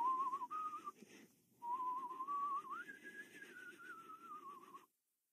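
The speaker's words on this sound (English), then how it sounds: "I'm just going to whistle" A single person whistles a simple tune, clear and close, with a brief pause near the start before the melody carries on and ends abruptly.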